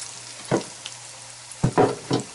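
Potato wedges go into hot oil in a cast iron pan, a few short sharp sizzling bursts over a quiet low hum, close and clear, with no talking.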